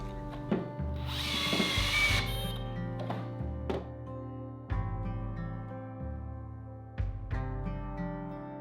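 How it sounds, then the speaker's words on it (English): A power drill bores pocket holes through a pocket hole jig while two parts of a workbench are joined, sounding in several separate bursts, each a loud whirring spin-up that winds down, close by, with no talking. "to join the two parts together, I used my pocket hole jig"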